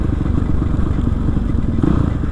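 Kawasaki KLX 450 supermoto motorcycle riding: a loud, continuous, buzzy single-cylinder engine roar with rapid low pulsing, heard close up without speech.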